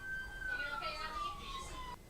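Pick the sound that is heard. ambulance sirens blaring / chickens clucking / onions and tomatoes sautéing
ambulance sirens blaring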